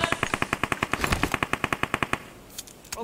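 Rapid automatic gunfire in a shooter video game, a loud burst of about twenty evenly spaced shots over two seconds, followed by fainter scattered sounds, with no talk.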